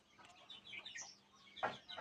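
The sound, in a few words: chickens clucking in a coop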